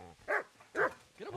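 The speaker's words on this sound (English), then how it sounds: "Hey, don't you be attacking that dog." Dog in the video game Kingdom Come Deliverance gives three sharp, close barks spaced about half a second apart, each a bright yelping bark over a quiet background.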